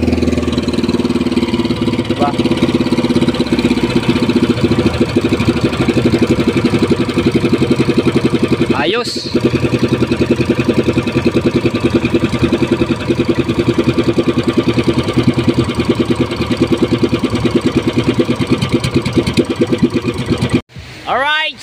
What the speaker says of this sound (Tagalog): Maganda na takbo ng makina.